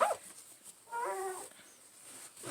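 A dog indoors lets out a faint, high whimper that wavers for about half a second, with quiet room noise around it.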